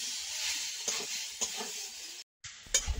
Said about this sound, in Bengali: লঙ্কা বাটা দিয়েছি, আর একটু কষিয়ে নেবো।